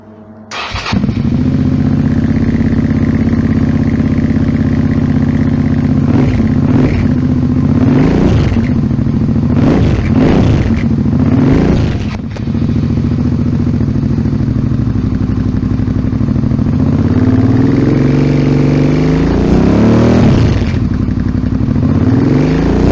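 A Suzuki V-Strom 650 motorcycle fitted with a Delkevic exhaust, baffle removed, starts and idles loudly up close, broken by several sharp throttle blips and a longer rising rev near the end.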